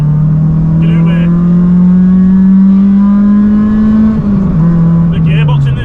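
A caged Honda Civic's engine revs loud and close from inside the cabin while driving, a steady drone that climbs then dips with a brief gear change near the end, with someone talking over it.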